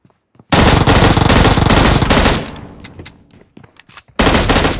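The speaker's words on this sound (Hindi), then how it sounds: "भाई यार, ये M16 इतनी अच्छी कैसे चल रही है? खड़क खड़क खड़क खड़क चलती है बेचारी" An M16 rifle firing in PUBG Mobile: a loud, close sustained burst of rapid automatic shots, a brief lull with a few scattered shots, then another loud burst at the end, no talking.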